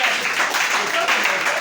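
Audience applause and clapping in a live comedy show setting, a steady wash of many hands throughout, with a voice talking over it.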